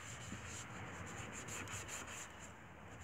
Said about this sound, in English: Get your applicator, this brand new applicator here. Kind of rub it in there